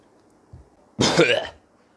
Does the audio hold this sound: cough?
yes